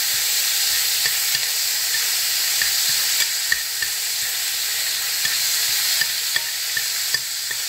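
Ground beef browning in a pan, a loud continuous sizzle with frequent sharp pops and crackles, as though stirred now and then, and no talking.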